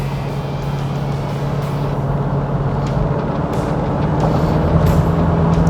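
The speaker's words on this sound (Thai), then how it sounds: "แล้วก็เพิ่มขึ้นเรื่อย ๆรถก็เริ่มเร่งขึ้นไปนะครับ" A car fitted with a TORQUE AIR electric throttle box accelerates, its engine drone rising steadily and growing slightly louder over several seconds, heard alone without talk.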